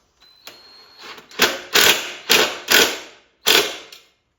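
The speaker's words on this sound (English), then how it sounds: "I'm going to tighten those bolts first before I tighten up the shocks." A ratchet tightens bolts on a Honda CT70 clone motorbike in five sharp, separate bursts of metallic clicking, close and fairly loud, with short pauses between strokes.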